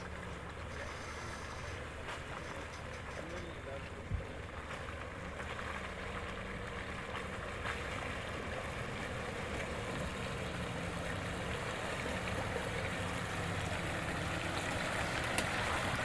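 A 4WD's steady low engine idle as it crosses a creek, under continuous rushing, sloshing water, holding an even level throughout with no voices.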